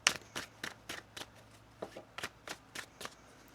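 A deck of tarot cards being shuffled by hand, about a dozen quick riffling bursts in a steady, uneven rhythm, close and moderately soft, with no voices.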